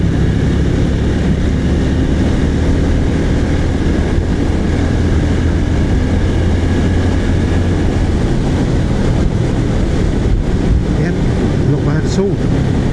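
A BSA motorcycle engine runs at full throttle in sixth gear at about 30 mph, a dense, steady roar of engine and wind with voices faintly beneath.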